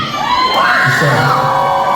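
A theatre audience at a concert screams in a loud, sustained wave of high, wavering voices that fills the whole moment.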